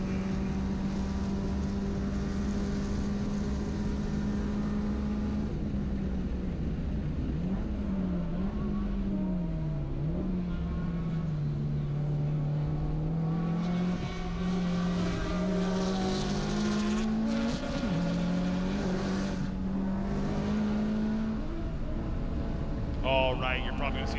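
Race cars lapping Road Atlanta during a time attack event, a loud sustained engine drone rising and falling in pitch as cars accelerate and brake, with a commentator talking over it throughout.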